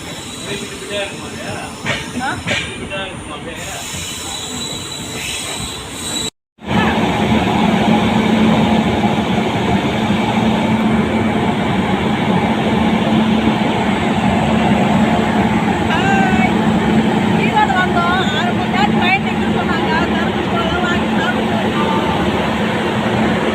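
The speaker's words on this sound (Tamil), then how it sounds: "ட்ரெயினில் ஏறிட்டு ட்ரெயின் கிளம்பிடுச்சு" A train pulling away and running, with a steady loud rumble and rail noise that fills the clip after a brief dropout near the start, plus faint voices mixed in.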